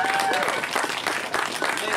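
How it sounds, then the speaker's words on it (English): Audience applause at a poetry garden open-mic event, a dense, steady wash of clapping with some cheering that holds loud throughout. "Keep that round of applause going for Lady Dragon."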